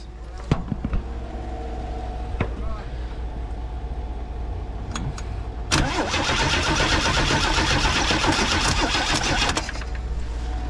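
Engine of a 1979 Chevrolet Nova cranking on a dying battery: a few sharp clicks and short attempts, then a loud, continuous churning crank from about the midpoint to the end, close to the car.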